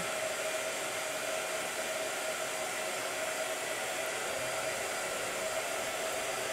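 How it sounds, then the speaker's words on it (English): A blow dryer runs steadily throughout, a loud, continuous whooshing hiss with a constant motor whine and no pauses or voices. "Blow dryer."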